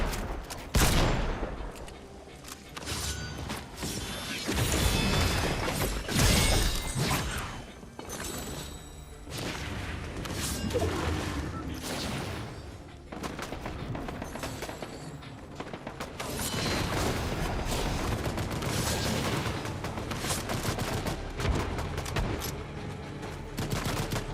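Video game gunfire crackles in repeated bursts and single shots with thuds and mechanical clicks, close and loud, spread unevenly across a long stretch of play.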